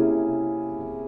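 A C seven sharp five (augmented seventh) chord played on piano sounds as a single held block of notes, sustaining evenly for about a second with no other sounds.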